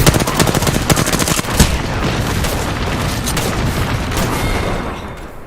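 Rapid smart-bullet gunfire in a video game, a loud close burst of fast repeated shots that fades into a dense booming rumble and then tapers off.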